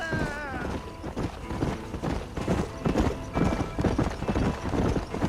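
Horse hooves clip-clopping steadily in the Red Dead Redemption video game, a brisk rhythmic trot running throughout with a brief whinny near the start and game music underneath.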